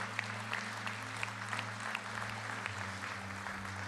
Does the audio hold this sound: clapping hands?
yes